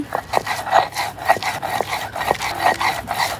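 Mustard seeds being ground into paste on a grinding stone, a rhythmic series of close scraping and rubbing strokes, roughly two per second, steady and fairly loud with no talking.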